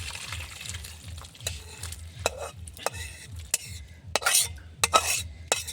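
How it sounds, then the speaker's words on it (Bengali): A ladle scrapes and knocks in a pot of fish curry, regular clinks and scraping strokes over a low bubbling simmer, close and alone without talk. "এখনই আমি একটু লাড়াচাড়া করে ঢেলে নেব"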